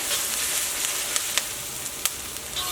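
Turmeric, coriander, chili powder, garam masala and crushed pepper fry in an iron pan for a Kerala chicken roast, giving a steady close sizzle with a few sharp pops and stirring clicks.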